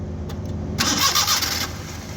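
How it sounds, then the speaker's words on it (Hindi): A Suzuki Mehran's starter cranks briefly before the engine catches and fires up, settling into a loud, close running sound. "अभी गाड़ी को सेल्फ लगाते हैं"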